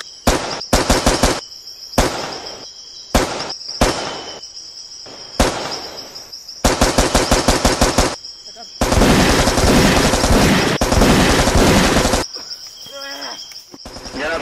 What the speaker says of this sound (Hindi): सरफेस की ईस्टर्न साइड से हेवी फायर आ रहा है